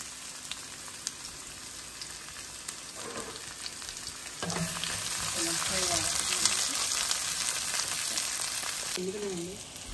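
Mustard seeds and fennel fry in oil, starting as a faint hiss, then a louder steady sizzle after something is added, with brief bits of a voice heard under it.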